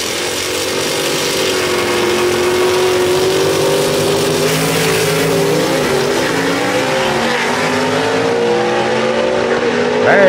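A gasser race car in a drag race at Knoxville Dragway, its engine roaring loud and sustained with rising and wavering pitch through the full run.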